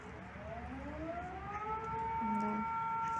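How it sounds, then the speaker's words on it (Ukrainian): An air raid civil defense siren wails at a distance over Boldyni Hills in Chernihiv, Ukraine, its tone slowly rising and sustained against outdoor ambience, with a faint brief voice partway through. "У нас повітряна тривога."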